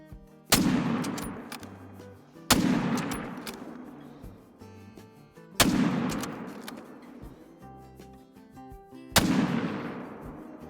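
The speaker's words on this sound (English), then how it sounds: "First shot was a bit high on that female." Four loud, sharp rifle shots in a hunting video game, fired while stalking red deer, each crack followed by a decaying rolling echo, spaced a couple of seconds apart with quiet ambience between.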